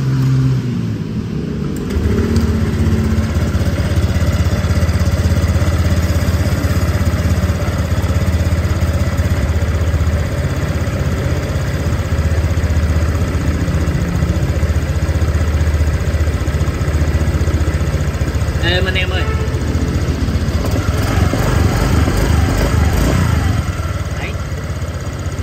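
A 2013 Honda Air Blade 125 scooter engine idles steadily up close, then the throttle opens for a couple of smooth revs near the end, loud and continuous with no talking over it.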